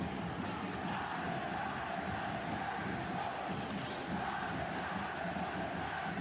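New Mexico United supporters inside a stadium, a dense continuous crowd roar with chanting and cheering, loud and sustained throughout.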